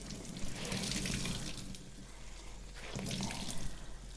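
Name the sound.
rinsing tie-dyed fabric under running tap water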